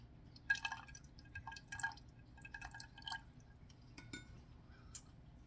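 A tablespoon of lemon juice trickles into cheesecake mixture: a few quiet drips and short liquid splashes in separate small bursts, with a light clink near the end, close and faint with no talk.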